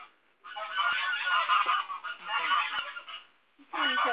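A goose on a farm in Jacareí honks in loud, raspy bursts, close by and repeated, with short pauses between calls.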